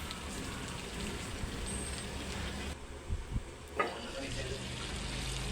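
Water is poured into a pot of chicken feet being cooked in vinegar, a steady rushing pour close to the microphone with a couple of brief knocks near the end.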